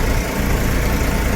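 Tractor engine running steadily while pulling an automatic fertilizer seeder, a loud close low drone with even vibration throughout.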